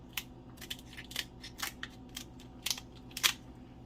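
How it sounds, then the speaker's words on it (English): Sharp, crisp snips of scissors cutting through king crab shell, about eight quick clips in a few seconds, close and fairly quiet. "And you take the scissors"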